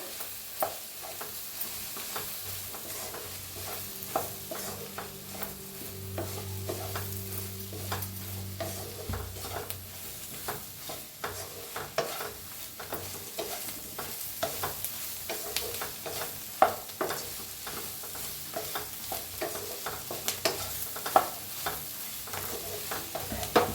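A spoon stirs turmeric, pulao masala and green chillies frying in a pan for soya rice, scraping and sizzling steadily throughout at close range with no talk.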